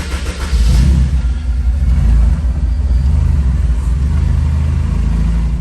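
Honda Type R car pulling away, a steady low engine rumble and drone that rises as it gets going, heard from inside the cabin and continuous throughout.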